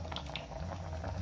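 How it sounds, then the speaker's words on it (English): A pot of brown rice and peas boiling on a home stove, a steady low bubbling simmer with a few small pops breaking the surface, close and fairly quiet throughout. "This pot bubble up."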